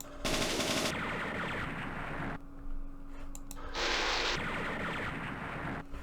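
Sustained machine gun fire rattles in Campaign Series Vietnam during the 1968 Battle of Ba Ria, in two long bursts separated by a brief lull with scattered clicks.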